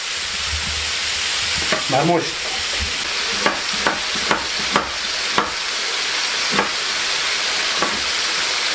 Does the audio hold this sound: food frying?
yes